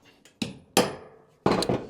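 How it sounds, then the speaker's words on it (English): A hammer drives a damaged part into a tube during boat hull gelcoat work, giving three sharp, ringing metallic strikes spaced unevenly, each fading quickly, close and loud with no talk. "Let's use a hammer of some kind."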